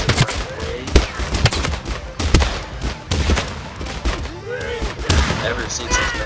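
Shotgun fire in the battle simulator game Totally Accurate Battle Simulator, a dense volley of sharp blasts from a squad of WW2 American units, with irregular bursts of shots and a few overlapping voices.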